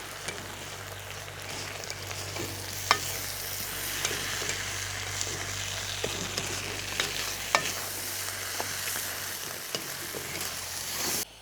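Rice is tossed with pepper and seasoning in a pot over a steady low hum, with scattered scrapes and clicks from stirring and no talk.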